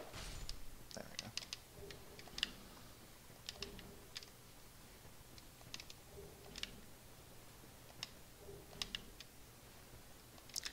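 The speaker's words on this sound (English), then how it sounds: "Sorry if you can hear the controller clicking." Game controller buttons click repeatedly and sharply in short irregular bursts during a Dark Souls 2: Scholar of the First Sin playthrough, close and fairly faint over a low background hum.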